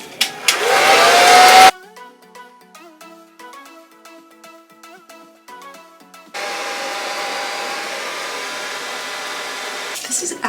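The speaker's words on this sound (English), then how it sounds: "you're supposed to dry your hair first before applying the second batch of bleach" A hair dryer blowing on freshly bleached hair: a loud, close whooshing roar at the start, cut off by a short plinking electronic melody, then a steady airy blast returning and holding to the end.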